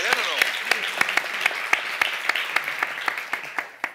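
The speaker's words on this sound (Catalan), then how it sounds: "Un aplaudiment!" Studio audience applause at a comedy game show, a steady wash of clapping with sharp individual claps standing out at a quick, uneven rhythm, and a voice briefly at the start.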